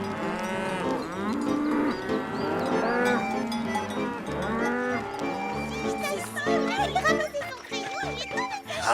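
Cattle mooing in long, loud, drawn-out calls at a farm, with a voice and other farm sounds mixed in.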